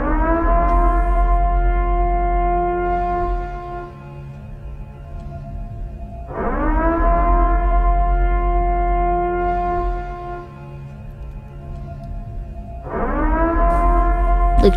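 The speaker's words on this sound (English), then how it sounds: "the sirens are going off" Air raid sirens wail in a Minecraft game, three long rising-and-falling cycles that sound loud and steady with no talking.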